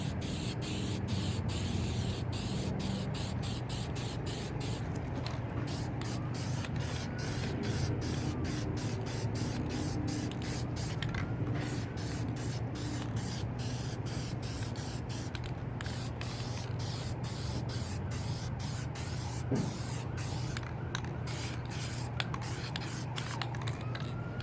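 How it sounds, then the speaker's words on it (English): A spray paint can hisses in steady, continuous bursts while clouds are painted on a spray paint art piece, with short pauses and faint rubbing between sprays throughout. "this is spray paint"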